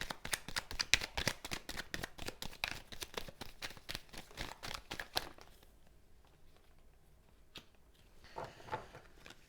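Tarot cards shuffled in quick, crisp riffling bursts close up, then a quieter pause with a few soft taps and a brief card draw.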